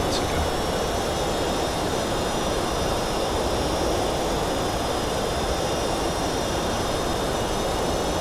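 Simulated Boeing 757-200 jet engines in X-Plane 11 drone steadily during descent, a dense broadband roar with a faint high whine, continuous and fairly loud for the whole stretch.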